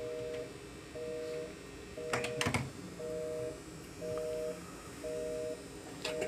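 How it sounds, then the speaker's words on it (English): NEC business telephone keypad dialing a number: a steady series of short, evenly spaced dual-tone beeps repeating, plus a brief clatter of handset or button noise partway through, with no talk. "Oh, I dialed the wrong number."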